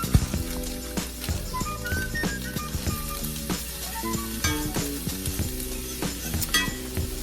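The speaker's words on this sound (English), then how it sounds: "I'm gonna have to saute my onions in a separate pan" Onions sautéing in a separate pan with salt and pepper for Southern smothered pork chops, a steady close sizzle joined by scattered clinks and stirring knocks of a utensil against the pan, with no talking.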